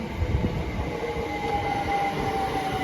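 A train rumbles steadily past at close range at Cambridge railway station, a thin metallic wheel squeal rising briefly over the low rolling noise.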